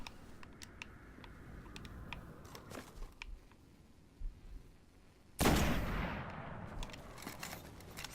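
Rifle gunfire in the video game Destiny: scattered sharp shots over a quiet background, then a loud burst near the middle that decays into a longer noisy rumble.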